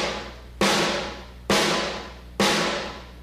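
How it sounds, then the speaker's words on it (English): Three fat, resonant snare drum hits struck in the center without touching the rim, evenly spaced about a second apart, each ringing out and decaying before the next. "playing in the center of the drum without hitting the rim"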